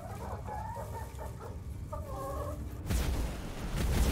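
Chickens in the dungeon-building game Dungeons 4 cluck and crow in repeated bursts over a steady game background, and a louder rumbling noise takes over near the end.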